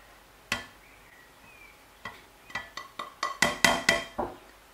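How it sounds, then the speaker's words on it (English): Suya spice ingredients and a seasoning cube are mixed in a bowl, starting with a lone clink and then a quickening run of scraping, clattering strokes that grow louder and close together. "Mix everything up."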